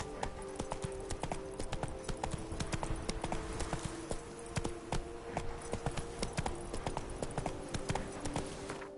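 Hooves of Roach, a horse in a video game, clip-clop in a quick steady galloping rhythm, close and continuous from start to finish, with a faint background hum.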